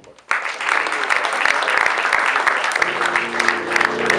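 Audience applause at a live band contest semifinal, Livekarusellen 2014, starting abruptly and holding steady as dense, loud clapping from a full room for several seconds.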